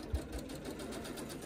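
A sewing machine stitches curved quilt pieces for a summer sampler quilt, a close mechanical whir running steadily at a moderate pace with a faint motor hum underneath.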